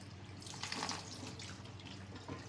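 Raw chicken wings are rinsed with a little water in a home kitchen, producing a soft, steady trickle and splashing close by with no talking.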